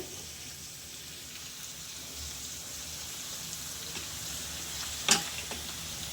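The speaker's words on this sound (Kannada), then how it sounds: "ಜಿಂಜರ್ ಗಾರ್ಲಿಕ್ ಅಂತ ಚೆನ್ನಾಗಿ ಫ್ರೈ ಆಗಿದೆ ಇವಾಗ ಪಾಲಕ್ ಸೊಪ್ಪು ನೋಡಿ ಕಟ್ ಮಾಡ್ಕೊಂಡಿರೋ ಅಂತ ಚೆನ್ನಾಗಿ ತೊಳೆದು ಪಾಲಕ್ ಸೊಪ್ಪು ಹಾಕೋತಾ ಇದ್ದೀನಿ" Chopped, washed spinach dropped into ginger and garlic frying in a pan, a steady soft sizzle with one brief louder burst as the wet leaves hit the hot oil; no talking.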